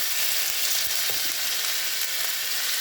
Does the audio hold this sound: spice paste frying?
yes